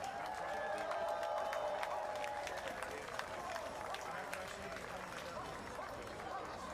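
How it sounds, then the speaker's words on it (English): Steady applause from an audience after a folk arts performance by a Filipino folk dance troupe, a sustained wash of clapping and crowd noise at a moderate distance, with voices and cheering mixed in. "Another round of applause po!"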